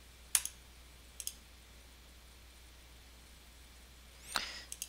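A computer mouse clicks in software: a few faint, sharp isolated clicks spaced across a quiet background, with a short cluster at the end.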